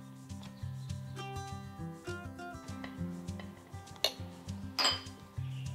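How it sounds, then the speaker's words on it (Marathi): Chutney batter being added and spread in a pan on a switched-off stove for a Maharashtrian dish, with close scraping and clinking of a spoon against cookware, a few sharper metallic knocks, over soft background music. "यामध्ये आपण हे जे चटणीचं बॅटर तयार करून घेतलं होतं हे घालूयात"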